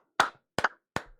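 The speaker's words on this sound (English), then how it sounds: "Let's give her a clap for her first time here." Three distinct, close hand claps spaced evenly apart, crisp and isolated against silence, given as a welcome for a newcomer in an online chat room.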